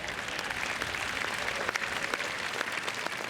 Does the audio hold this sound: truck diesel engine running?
no